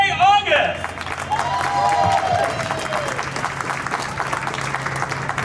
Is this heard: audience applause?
yes